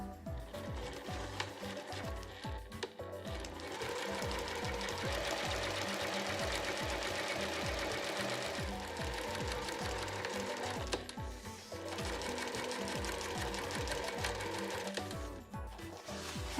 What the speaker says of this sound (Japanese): 合い印のところから下に向かって底側に向かって7ミリで縫います。